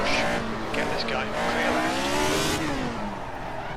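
A race car in Assetto Corsa on a bumpy track spins out: engine revs rise and fall while tires squeal and skid loudly for several seconds, with a voice talking over the noise.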